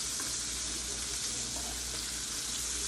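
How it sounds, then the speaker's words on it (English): Liver browning in hot oil in a pan fills the scene with a steady, close, even sizzle and crackle, and no one talks. "I'm just really browning this a little bit in the oil."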